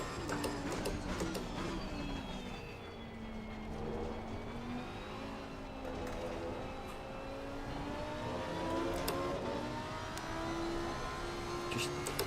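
A race car's tyres slide and scrub through a corner in the sim racing game Assetto Corsa Competizione, with a steady engine drone and rising tonal squeal running continuously underneath, no talking.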